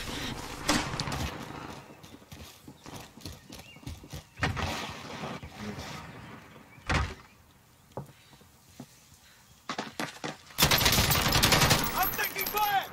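Gunfire from the video game Warzone comes in scattered bursts and single cracks, some close and loud, others farther off, with a heavy sustained volley near the end and brief voice chat mixed in.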